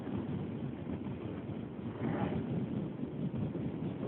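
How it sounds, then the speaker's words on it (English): Low, rumbling wind buffets and gusts, swelling in the middle, a rough blustery roar with no voices. "I think it's a little too windy right now"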